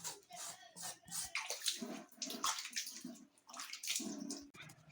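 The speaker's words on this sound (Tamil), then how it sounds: "உருளைங்காயை நல்லா கழுவி எடுத்துக்கிடலாம்" Potatoes being washed by hand in water for a snake gourd and moong dal kootu, with continuous close splashing and sloshing and a faint voice underneath.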